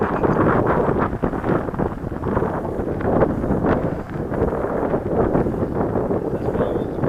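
Strong wind roars and buffets the microphone at an airfield in Henryetta, where a Timber aircraft is flying, a loud, steady rush with gusty swells throughout and no clear talk.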